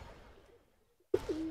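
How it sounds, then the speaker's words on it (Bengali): A single pigeon, a pedigree racing bird handled at a loft, gives a short, close coo after a brief hush, standing out from low background noise. "মাশাআল্লাহ, অসাধারণ সুন্দর একটা কবুতর।"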